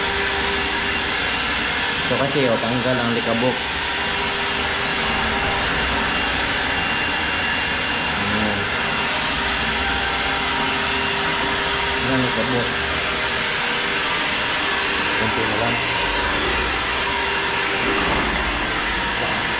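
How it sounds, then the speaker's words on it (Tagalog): A vacuum cleaner drones loudly and steadily while sucking up dust from skim-coated floors in a house under renovation, with people talking over it throughout. "Vacuum tayo, vacuum."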